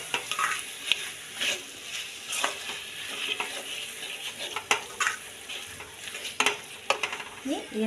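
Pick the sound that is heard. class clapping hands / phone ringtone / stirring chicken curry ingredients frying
stirring chicken curry ingredients frying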